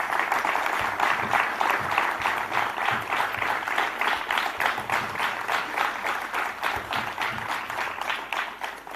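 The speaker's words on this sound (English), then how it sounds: "I request everyone to once again welcome him with a huge round of applause." Steady applause from a large audience welcoming a speaker at a South Asia Learning Summit, sustained and even for the whole stretch with dense, close clapping and no talk.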